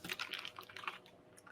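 Quick, light keystrokes on a computer keyboard, an uneven burst of clicking that fades out near the end, heard alone with no talking.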